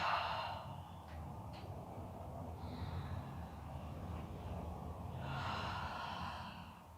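Audible breaths drawn in and pushed out during a Pilates exercise, a soft rushing exhale near the start and another longer one near the end, close to the listener, with no talking.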